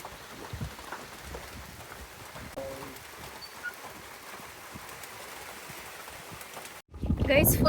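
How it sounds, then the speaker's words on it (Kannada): Heavy rain falls steadily in Gokarna as a broad, continuous hiss with scattered drops, ending in a louder close burst of noise. "ಆ್ಯಂಡ್ ತುಂಬ ಚೆನ್ನಾಗಿ ಮಳೆ ಬರ್ತಿದೆ"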